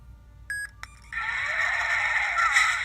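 Infinium 2.0 lightsaber cycling to a Vader sound font, a couple of short beeps and a click followed by a steady, loud electric hum and buzz of the ignited blade that continues to the end.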